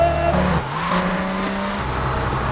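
A car drives in the video game GTA III, with a steady engine drone and shifting pitch as it revs and changes gear, plus a faint whine on top.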